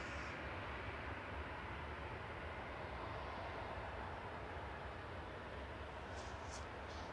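A jet airliner roars steadily on departure at Manchester Airport, a continuous broad rumble and hiss that stays loud and even throughout.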